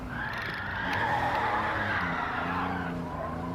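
A car skids through a handbrake turn on the Sardegna track in the video game Gran Turismo 7. A loud, sustained tire squeal rises and bends in pitch over the engine drone for several seconds, with no voices.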